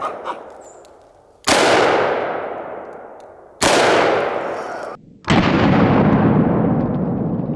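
A .44 snub-nose revolver fires three loud, sharp shots outdoors, each blast ringing out and decaying slowly over a couple of seconds, spaced unevenly.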